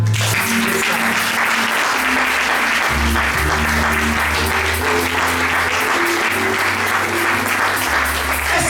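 A church congregation applauds in praise of the Lord, sustained and loud, the dense clapping running unbroken throughout with music tones underneath.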